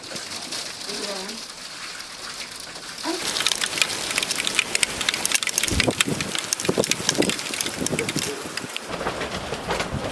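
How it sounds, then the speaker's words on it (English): Sleet and freezing rain tick and patter against a farmhouse window at night, a dense, steady crackle that grows louder and busier after the first few seconds, with a few soft low thumps. "now it's sleeting. I can hear it hitting against the window"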